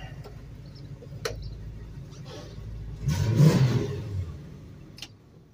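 A 1968 Mercury Cougar XR7 engine idling close by while being parked, with a few faint ticks, then a brief rev that swells and fades back to idle.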